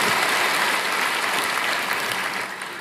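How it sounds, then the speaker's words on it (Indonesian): A church congregation gives an enthusiastic applause during a worship service. Dense, loud clapping fills the room throughout and eases slightly at the very end. "Berikan tepuk tangan kita untuk Tuhan."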